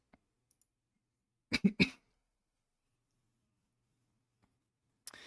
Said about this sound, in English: my mouse can be heard whenever I'm clicking